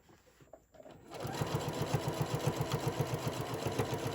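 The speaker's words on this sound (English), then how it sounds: "And I'm going to sew down this side." A sewing machine stitches down the side of a Halloween-print fabric bowl cozy. After a quiet second with faint handling, a close, steady, rapid mechanical chatter runs in an even rhythm.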